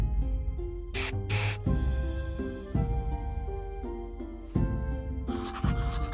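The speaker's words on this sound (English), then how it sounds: "now spray it into both eyes" A short hissing spray of tincture into the eyes in Graveyard Keeper, two quick bursts over sustained melodic game music with low tones.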